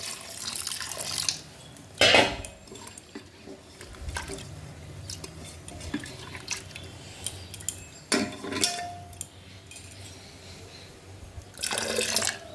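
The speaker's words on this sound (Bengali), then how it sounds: "দিয়ে দিচ্ছি জল।" Water is poured into a pot of mung dal in a home kitchen, a wet splashing and trickling that comes in a few bursts with light clinks of metal cookware between them.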